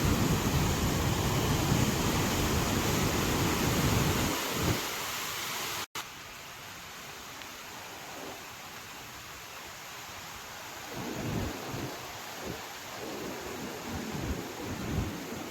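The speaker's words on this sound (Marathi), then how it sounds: "बघा पाणी कसं वाहतंय" A steady, dense rush of the flooded Godavari River flowing, filling the first few seconds, then dropping to a softer, quieter wash with occasional rumbles.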